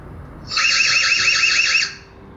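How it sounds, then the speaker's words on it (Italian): A loud electronic alarm tone from an outdoor security camera warbles rapidly for about a second and a half, shrill and steady, then stops abruptly. "La camera è provvista anche di allarme sonoro."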